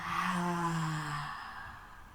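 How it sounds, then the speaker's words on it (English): One long, slow exhale through the mouth during a calming children's yoga breathing exercise, a soft, breathy sigh heard close and alone, fading gradually. "Exhale all of your breath out of your mouth, maybe a big inhale in through the nose."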